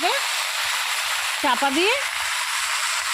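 Mixed-vegetable curry frying in a covered pan, with a steady, dense sizzle throughout and someone talking briefly over it.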